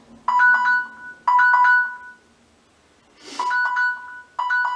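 A timer signals the end of a make-up challenge with a repeating electronic chime melody, loud bursts of bright ringing tones separated by short pauses, with a brief rustle partway through.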